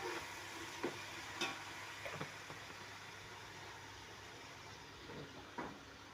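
Turmeric fries in oil in a pan, making a quiet, steady sizzle punctuated by a few soft clicks and scrapes from stirring.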